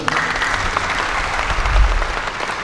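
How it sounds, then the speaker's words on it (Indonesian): An audience at a land certificate handover ceremony in Klungkung, Bali, claps for a provincial land office head, sustained close applause from a large crowd without speech. "Tepuk tangan untuk Pak Ketut."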